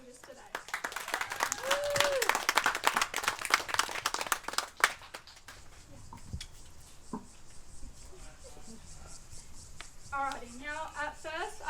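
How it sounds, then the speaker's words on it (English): A modest round of clapping from a small audience at a seventies-themed pageant, with fairly sparse hand claps that fade after a few seconds into quieter room sounds and some talking. "Can I have a round of applause for all the girls who are brave enough to do this today?"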